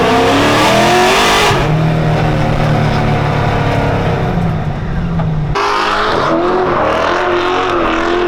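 An LS3 V8 swapped into a BMW E46 pulls in second gear from about 1200 RPM, a loud, close, continuous engine roar that rises and shifts in pitch, with a sharp change partway through and no talking.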